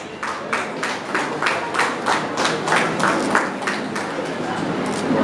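Audience members at a school award ceremony clap steadily, with distinct rhythmic hand claps standing out over a background of broader applause in an indoor hall, sustained and fairly loud throughout.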